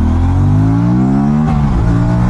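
An Aprilia RS457 motorcycle ridden in eco mode, its engine drone climbing steadily in pitch as it pulls, loud and close, briefly easing around the midpoint before rising again.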